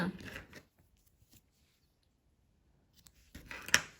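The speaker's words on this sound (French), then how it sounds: "on fait une maille en l'air, on coupe le fil" Scissors snip crochet yarn, a few short crisp cuts at the start and again near the end, close and fairly quiet, with brief talking.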